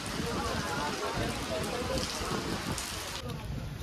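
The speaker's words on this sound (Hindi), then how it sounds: "बारिश हो रही है बहुत ज़बरदस्त, हवा और बारिश दोनों ही हो रही है" Heavy rain driven by strong wind pours down along a pilgrimage route to the Mata Rani shrine, near a shed where people shelter. The downpour makes a loud, dense, unbroken wash throughout, with a faint murmur of voices mixed in.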